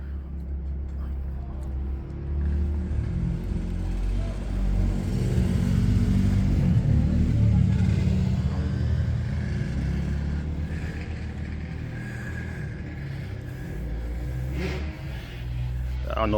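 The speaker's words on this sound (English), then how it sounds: "That's all the ATVs and dirt bikes that are going down my street" ATVs and dirt bikes travel down a residential street, their engines droning and revving at a distance as the sound swells in the middle and fades, with a person talking over it.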